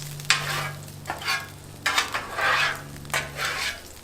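Oil sizzles on a Blackstone griddle while a spatula pushes it around, producing repeated bursts of scraping and frying noise over a low steady hum, close and moderately loud.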